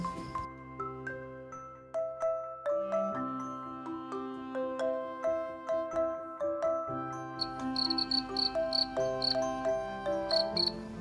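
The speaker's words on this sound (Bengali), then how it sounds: "ঝিঁঝি পোকারা ডাকতে শুরু করেছে।" Crickets chirp at dusk beside a river cottage in the Dooars, several insects trilling in overlapping, pulsing rhythms that build steadily, close and clear with no voices.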